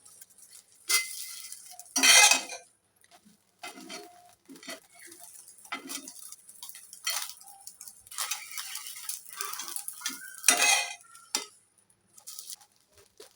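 Egg ghotala, a street-style egg dish, stirred and scraped in a pan with a utensil, giving sparse, faint clinks and scrapes with a few louder knocks and quiet gaps between them.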